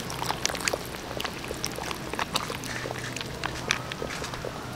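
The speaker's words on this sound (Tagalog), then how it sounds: "Maglalagay lang tayo ng tomato sauce." Tomato sauce poured into a cooking pot, a soft irregular trickle and splatter with light clinks, close and fairly quiet, no talking.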